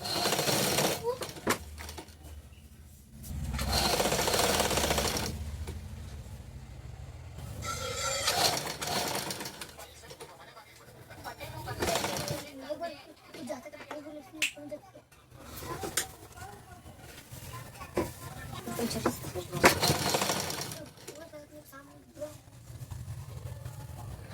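Bursts of a sewing machine stitching folded fabric for a collar, coming in several short runs with pauses, mixed with voices talking in the room.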